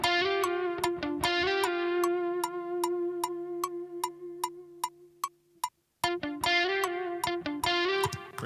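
Music processed through the Echo Boy Jr echo plugin: sharp rhythmic ticking hits with bright tonal notes whose repeats trail and decay, briefly dropping to silence before the pattern restarts.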